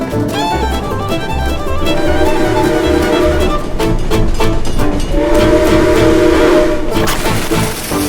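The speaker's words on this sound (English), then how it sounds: "The train's coming that way!" A theme park ride train rumbles past with steady clattering and a sustained horn-like tone, loud and continuous throughout, with rhythmic clicks over the rails.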